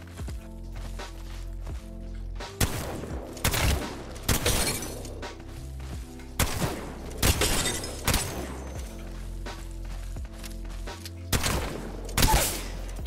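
Mastiff shotgun blasts in Apex Legends firing range practice, several loud bursts spaced a second or two apart amid quieter clattering movement and footstep-like noise.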